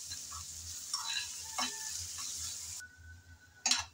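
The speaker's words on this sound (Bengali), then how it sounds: "আদা আর রসুন বাটা দিয়ে আবারও পেঁয়াজের সাথে নেড়েচেড়ে কিছুক্ষণ ভেজে নেব।" Onion frying in oil with ginger and garlic paste, stirred with a utensil: a soft steady sizzle broken by scraping stirs and a sharp clink near the end, with no one talking.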